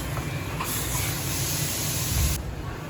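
Mustard paste being stirred in hot oil in a pan while cooking pabda fish, giving a loud, steady sizzling hiss that runs throughout and drops in brightness near the end.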